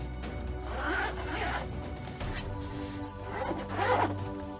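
A zipper runs open on a 14-inch waterproof laptop sleeve case with a handle, in two close, loud rasping pulls separated by a brief pause, with no speech.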